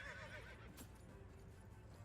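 A horse in the video game Myth of Empires gives a short, faint whinny with possible hoof clatter, set against a steady game soundscape.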